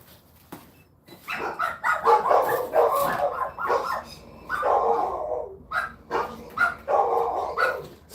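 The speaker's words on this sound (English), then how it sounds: "It's funny how aggressive these dogs sound when somebody's coming through the door." Several dogs bark aggressively as someone comes through the door, loud close bursts of barking and yips in rapid clusters that repeat with short pauses, with no talk.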